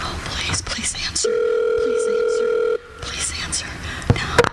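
Telephone ringing on the line during a call: a steady two-tone ring heard through the handset for about a second and a half, with talk before and after it.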